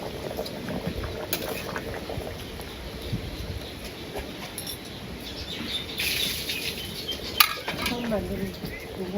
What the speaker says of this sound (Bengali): তরকারি প্রায় হয়ে গেছে মাছগুলো দিয়ে দিতেছে